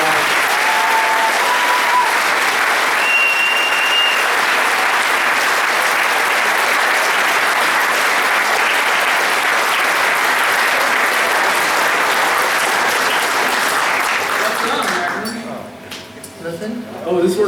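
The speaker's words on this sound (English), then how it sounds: "big round of applause for you guys." Sustained audience applause fills a convention Q&A hall at Gemucon 2013, steady and dense for most of the stretch before thinning out near the end, with a few faint clinks and voices mixed in.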